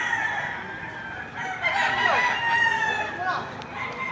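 Several young roosters (stags) crow in overlapping calls, one after another, with a bit of clucking and a faint voice in the background, at a livestock auction market in Padre Garcia, Batangas.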